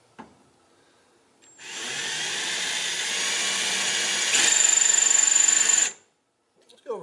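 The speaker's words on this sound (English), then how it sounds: "we're going to start drilling without a pilot hole." Power drill fitted with a copper oxide or titanium oxide bit, boring into material without a pilot hole, a loud steady whine that starts abruptly, holds for about four seconds with a rising pitch and then cuts off.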